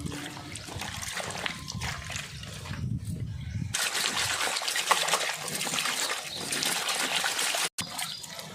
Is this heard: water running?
yes